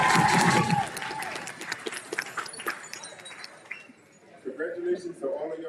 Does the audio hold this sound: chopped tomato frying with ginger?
no